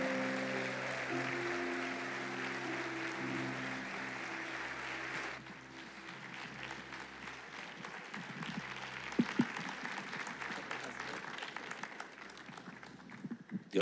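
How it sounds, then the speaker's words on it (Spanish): A church congregation applauds throughout, a broad steady clapping that thins after a few seconds into a softer, scattered patter with a few sharp louder claps near the end, over a faint sustained musical tone. "vamos a dar un aplauso al Señor y a recibir a nuestro pastor César Castellanos"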